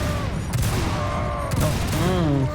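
Musket gunfire in a Mount & Blade multiplayer league battle, a ragged volley of overlapping shots with a few sharper cracks, heard under a commentator talking.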